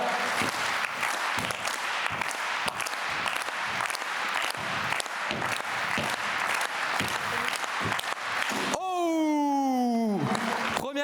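Crowd clapping at an Auxerrois New Year Olympic-themed event, a loud continuous patter of many hands with sharper peaks, cut off near the end by a rising, sweeping buzzer-like tone.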